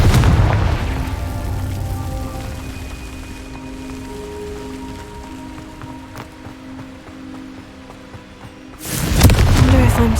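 A Confringo fire-blast spell is cast in Hogwarts Legacy, opening with a loud whooshing burst that settles into sustained ringing tones and ends in another sharp roaring surge.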